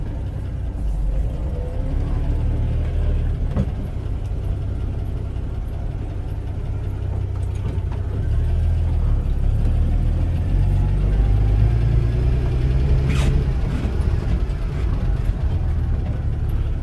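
A Land Rover Series 3 workshop truck's engine runs steadily while backing in, a constant low rumble and idle that stays close and fairly loud throughout, with brief faint knocks.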